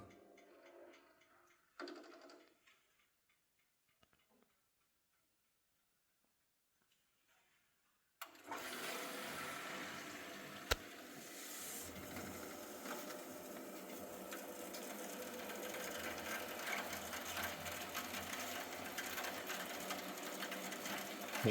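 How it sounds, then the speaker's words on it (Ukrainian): A Viessmann Vitopend 100 gas boiler with air still trapped in its heating system starts up after a near-silent pause, then runs with a steady, close, churning mechanical whir for over thirteen seconds. "Шумить, звичайно, все, бо ще є повітря в системі."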